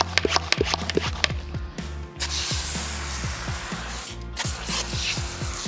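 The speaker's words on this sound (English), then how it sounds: "With our IK foam sprayer." Wheel and tire cleaner being sprayed onto a Tesla Model 3's wheel with an IK foam sprayer, with a rapid run of sharp pump strokes followed by a sustained foamy hiss that fades into softer bursts, close by.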